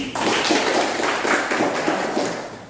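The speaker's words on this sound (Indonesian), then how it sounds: "Ya, tepuk tangan semuanya hari ini." Applause from a classroom of students at the end of a lesson, a dense steady patter of many hands clapping at close range throughout.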